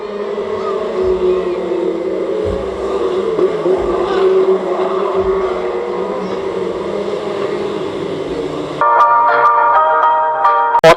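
Stock rod race cars in a heat at Cowdenbeath Racewall, a loud, steady engine roar from the pack that carries on throughout and shifts to a brighter, more tonal whine near the end.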